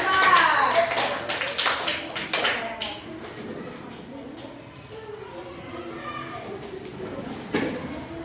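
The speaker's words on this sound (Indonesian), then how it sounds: "Tepuk tangannya dong buat kelompok 4" A classroom of students claps for group 4 after their presentation, a burst of scattered hand claps that is loudest at the start and then thins out beneath children's chatter.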